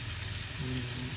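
Soy sauce hits leftover barbecue chicken in a hot pan, raising a steady, fairly quiet sizzle and crackle that holds throughout with no speech.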